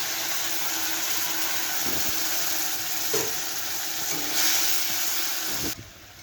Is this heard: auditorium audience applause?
no